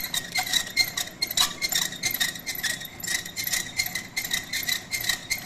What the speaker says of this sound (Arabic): معلش هي ده صوت المكنه عايز صيانه اهي